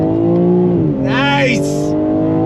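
A 2022 BMW M3 sedan pulls hard on throttle, its engine note sweeping upward loudly and close, with a brief squeal-like whine and a voice talking over it.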